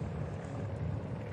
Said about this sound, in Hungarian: lehet, hogy jó lenne, az a helikopter közelebb menne